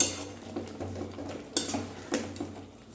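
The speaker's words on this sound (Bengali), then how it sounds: "খেজুর, আমসত্ত্বটা দিয়ে দিচ্ছি। দিয়ে একটু ভালো করে মিশিয়ে নেবেন।" Tomato chutney being stirred in a pan with dates and mango leather, a spoon scraping and clinking against the metal in irregular strokes, close and fairly quiet with a low hum beneath.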